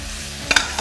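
A spoon stirs toffee-coated Granny Smith apples in a hot pan, a low sizzle broken by a couple of quick metallic scrapes and taps near the end of a brief moment.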